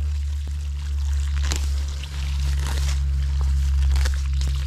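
Water pouring from a garden hose while weeding outdoors, a steady splashing stream onto ground and plants with a strong low hum underneath and a few brief crinkling sounds.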